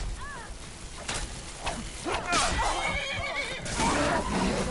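A horse in the Skyrim video game neighs and whinnies repeatedly at close range, with rising and falling cries over a busy background of game sounds.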